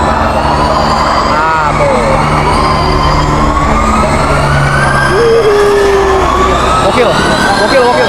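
Formula E electric race cars pass at a trackside spot, making a loud high whine that rises and falls through steady crowd and track noise. People talk and exclaim over the passing cars.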